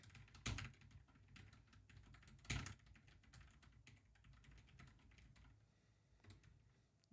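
Rapid, irregular clicking of keys on a computer keyboard, soft and close, with a couple of heavier thumps mixed in.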